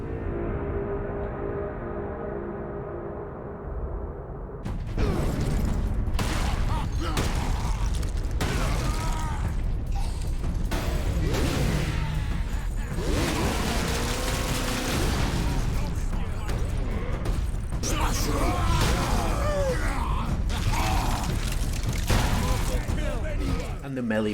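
Combat in the video game Space Marine with loud, meaty gunfire bursts, heavy blasts and mechanical clanks, rapid and intense, following a brief musical tone at the start.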